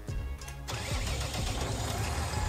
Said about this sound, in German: Traktor nach vorne fahren geht ja leicht